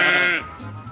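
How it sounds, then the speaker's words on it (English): A single sheep bleating close and loud, a wavering nasal call lasting under half a second before trailing into quiet background. "Sheep in Spanish is oveja."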